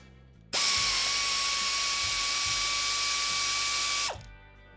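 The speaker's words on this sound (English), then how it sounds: "Air ratchet" Pneumatic air ratchet working on a Harley-Davidson Sportster during a 1200cc engine kit install, one loud continuous high-pitched whirring burst of about three and a half seconds, close by, starting and stopping abruptly.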